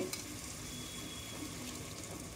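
Whisked curd stirred into cut vegetable pieces for veg biryani, a faint, steady wet mixing and squelching texture close by, with no talking.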